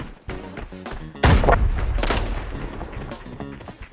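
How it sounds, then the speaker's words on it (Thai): A loud, close explosion in the game Arena Breakout bursts in with a heavy thudding boom and a long rumbling tail, standing out among faint earlier gunfire-like thumps. "เสียงระเบิดใครวะ"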